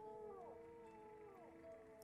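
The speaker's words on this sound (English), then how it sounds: "Howling in the distance." Distant howling in the video game Morrowind, with long wavering tonal calls rising and falling over a steady ambient hum, faint and far off with no voices.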